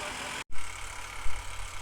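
A Honda motorcycle engine runs on a long ride and shows its pickup: a close, steady engine drone that cuts out for an instant, then swells back with short revving surges.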